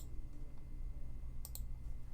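A computer mouse gives a quick pair of faint clicks against a quiet room hum, with a few softer taps before them.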